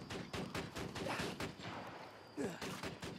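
Automated turret gunfire in the Borderlands 2 video game: bursts of sharp shots at moderate level, with other game effects around them and a brief spoken exclamation near the end.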